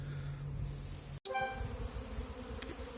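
Honey bees buzz steadily at an apiary hive, a close droning hum interrupted by a sharp brief dropout, then a higher buzzing tone from a bee passing near, no voices.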